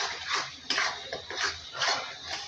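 Chicken curry masala being stirred in a pan, a steady rhythm of four or five scraping, clinking strokes of a spoon against metal, close and moderately loud with no talking.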